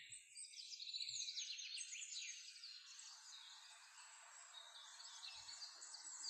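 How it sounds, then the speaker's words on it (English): Woodland birds, among them chaffinches, robins and blackbirds, sing in overlapping chirps and trills among the trees, soft and somewhat distant, with no one talking. "There are chaffinches, robins, blackbirds,"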